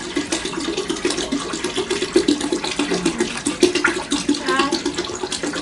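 Tap water runs steadily into a pot of chicken broth, a continuous close splashing rush that lasts throughout with no talk over it.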